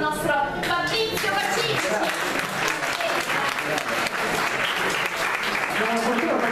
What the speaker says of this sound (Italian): facciamo anche un applauso al nostro Fabrizio